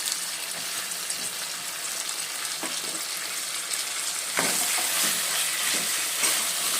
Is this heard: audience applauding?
no